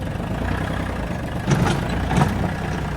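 An Iseki TA247 tractor's diesel engine runs smoothly and evenly, a steady low rumble close by with two brief swells in loudness.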